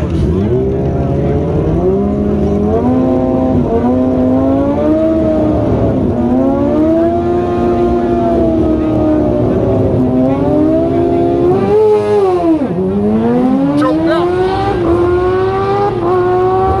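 Tires of a 2017 Chevy squealing hard on a race track at a track night, a loud continuous wavering screech that rises and falls in pitch for the whole stretch.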